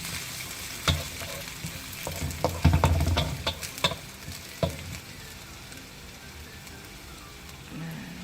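Sliced spices and lime leaves being stirred in a pan for spicy black squid, with intermittent scraping and clattering strokes over a low sizzle, busiest in the middle and quieter toward the end.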